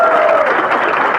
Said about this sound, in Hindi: ज्यादा ताली मत बजाओ ना, छोड़ो ना।